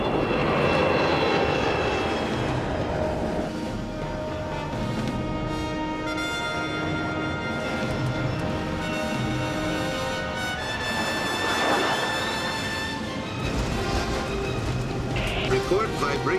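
An Avro Arrow jet aircraft climbs at full throttle with a loud, steady roar and whining engine tones that shift in pitch, while voices talk over radio above the engine noise.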